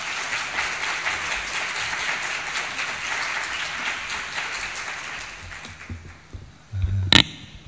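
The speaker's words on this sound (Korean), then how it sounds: "우리 목사님 나오실 때 따뜻한 박수로 한번 맞이하겠습니다" A church congregation at a Sunday service claps warmly to welcome the pastor to the pulpit. The dense applause holds, then thins and fades out, ending in a few scattered claps and a soft thump near the end.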